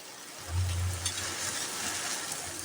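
Ghee is added to a cabbage curry in a pan and stirred, giving a soft steady sizzle with a brief low thump as it goes in, then a continuous quiet frying hiss.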